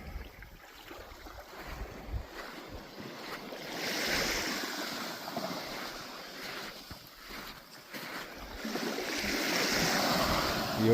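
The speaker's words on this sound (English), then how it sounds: "The ocean keeps wanting to try and get my feet wet." Ocean waves surge and wash up the shore of a beach on the Burin Peninsula under an overcast sky. Several swells rise and recede, with wind buffeting the microphone and no talk.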